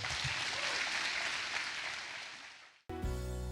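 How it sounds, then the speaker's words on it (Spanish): A church congregation applauds in a dense, steady wash of clapping that gradually fades away, then cuts into music. "Dale un aplauso al Señor"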